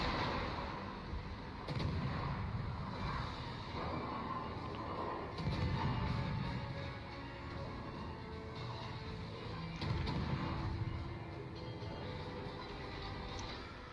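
A Z52 destroyer's guns fire in a World of Warships ranked battle, with a few heavy, booming salvos spaced several seconds apart over a constant rumble of game ambience and engine noise.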